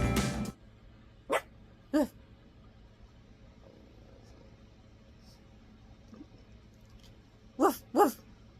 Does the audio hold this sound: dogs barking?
yes